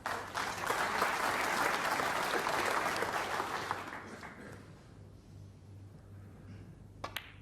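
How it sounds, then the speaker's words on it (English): Snooker spectators at the Crucible give a round of applause as a frame is secured, dense clapping for about four seconds that tapers off, followed by quiet room tone and a couple of sharp taps. "You always get a round of applause"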